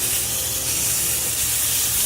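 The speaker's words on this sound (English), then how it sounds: "We have a nice sear going on here." A steak sears in a hot pan, giving off a loud, continuous, close-up hiss and sizzle that holds steady without breaks.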